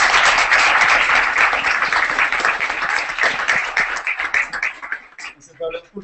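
Dense applause fills the first few seconds, thinning gradually into scattered claps as a voice begins speaking near the end.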